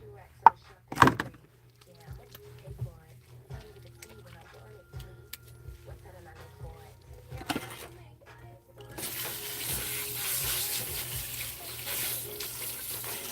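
Water from a kitchen faucet runs into a sink as hands are rinsed, a steady close rush filling the last few seconds after quieter scattered clinks and knocks.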